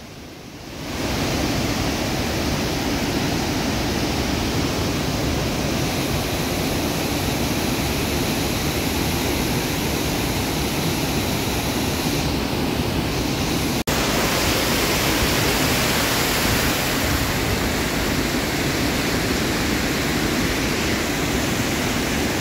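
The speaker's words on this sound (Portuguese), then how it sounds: "Cachoeira linda, tá?" A beautiful waterfall in a lush orchid-filled forest garden roars as a steady, broadband rush of falling water, loud and continuous throughout with no voices.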